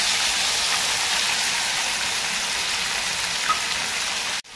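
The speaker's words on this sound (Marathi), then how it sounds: "तेल गरम झालेलं आहे, थोडं हिंग, थोडी मोहरी, थोडं जिरं, कढीपत्ता" Asafoetida, mustard seeds, cumin and curry leaves sizzle and crackle steadily in hot oil, a dense close hiss that runs unbroken for several seconds before cutting off sharply at the end.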